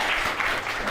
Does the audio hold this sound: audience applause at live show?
yes